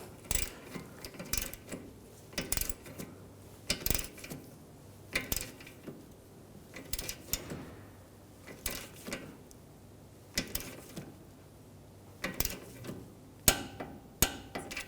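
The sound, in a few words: torque wrench tightening tie rod jam bolt, BMW 328i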